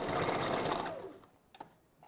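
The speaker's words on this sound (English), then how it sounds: "And so you heard the back stitching." A sewing machine back stitching a Spanish wave wig bundle runs in a fast, steady whir for about a second, then stops, leaving only faint clicks and handling noises.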